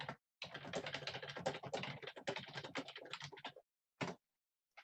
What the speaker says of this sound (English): I'll be typing that as well.